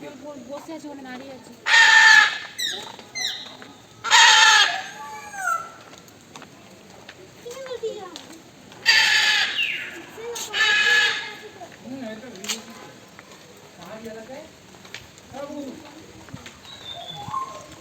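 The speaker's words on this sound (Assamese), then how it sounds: "শব্দবিলাক শুনকচোন, চৰাইৰ কি ধুনীয়া।" Birds call in a hill setting in Darjeeling, India: loud bursts of chirping and cooing come in clusters, with quieter calls between and people talking at times.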